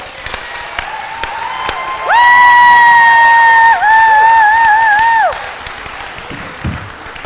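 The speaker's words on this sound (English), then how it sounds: "So what we're going to do is we're going to applaud like crazy right now." An audience at a candidate forum applauds and cheers, with a loud, sustained piercing whistle rising over a softer bed of clapping before the crowd settles back.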